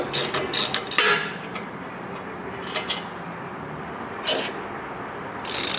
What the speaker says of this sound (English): often you can just grab a ratchet and finish them off